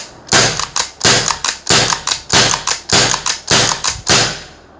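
The bolt of a JTS Thunder Lance Pro gun is cycled rapidly over and over, loud close metallic clacks in quick pairs forming a brisk, even rhythm, with no talk.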